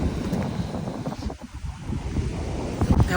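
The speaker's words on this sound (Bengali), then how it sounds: "একটু আগে বৃষ্টি হয়েছে, প্রচুর বাতাস আইছিল, তাই পানির ঢেউটা বেশি" Ocean waves roll onto a beach after rain while strong wind blows steadily across the microphone, the rumbling gusts nearly covering the surf.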